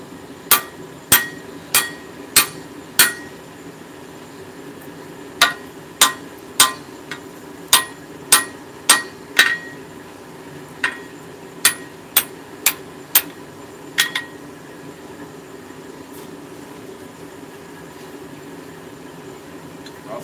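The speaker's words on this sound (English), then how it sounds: "I get them started with the hammer, then I go at it with the press" Sharp metallic hammer blows on hot steel ring out in irregular bursts, about twenty strikes with short pauses, over a low steady background hum.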